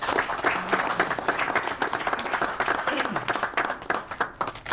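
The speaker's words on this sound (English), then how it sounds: "I want to give a round of applause to my team that was able to help me with making this" A round of applause breaks out at a village board meeting, a room of people clapping in quick irregular bursts, with talking mixed in throughout.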